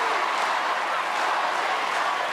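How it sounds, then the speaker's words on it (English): A live talent-show audience clapping along to a performance, a dense, even wash of many hands that stays loud and steady throughout with no talk over it. "you can hear the people clapping along"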